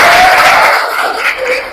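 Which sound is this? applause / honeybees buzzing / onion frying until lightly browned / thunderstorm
applause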